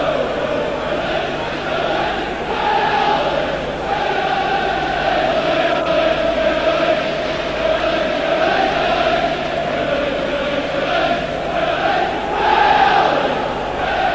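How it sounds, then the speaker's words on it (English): Large stadium crowd at a Leeds versus Bradford City football match, with thousands of away fans present; a dense, sustained roar of chanting voices rises and falls steadily throughout, loud and continuous with no pauses. "And just listen to this crowd."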